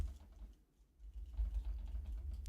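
Computer keyboard keys clatter in quick, uneven bursts during a live game development session, with a brief pause in the middle before the dense tapping resumes; no voices.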